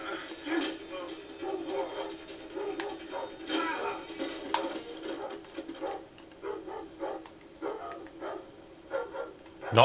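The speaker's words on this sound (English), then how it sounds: "Not killing a dog." A dog in the Thief video game barks and yips in repeated short bursts at moderate volume, spread across the whole stretch.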